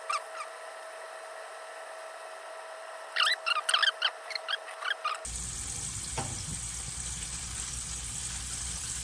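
A pork chop frying in a pan: a quiet steady hum with a cluster of sharp clicks and pops, then a sudden wash of loud, continuous sizzling that carries on to the end.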